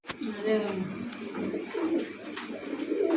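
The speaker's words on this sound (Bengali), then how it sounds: "এই যে এক জোড়া কবুতর" Pigeons, including Afsan Girizel birds, coo in low repeated phrases close by while someone talks over them.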